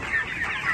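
Chickens clucking steadily and close by, several hens overlapping in a continuous busy chatter with no speech.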